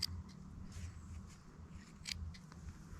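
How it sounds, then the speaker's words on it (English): Two quiet, crisp scissor snips cutting wire ends a couple of seconds apart, close up, over a soft background hum. "if you just snip off those ends, be very careful with the scissors"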